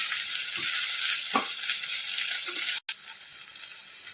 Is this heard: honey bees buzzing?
no